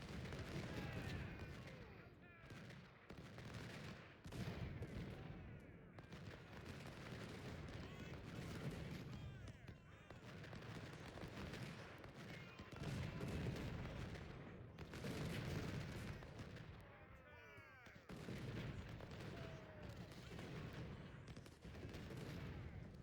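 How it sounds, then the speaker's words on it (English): Cannons and massed gunfire from a Civil War battle in the Ultimate General: Civil War game, rolling in continuous overlapping booms and volleys for the whole stretch, with a voice talking faintly underneath. "And then just let the cannons do the work."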